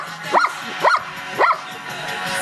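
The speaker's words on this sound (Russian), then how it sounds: "Собаки." A dog gives three sharp yips or barks at a steady pace, fairly close and clear, with faint background voices.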